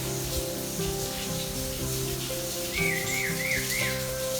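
Small birds call and warble at a gorge nature reserve, a thin wavering whistle rising clearly over a steady wash of trickling water in the second half.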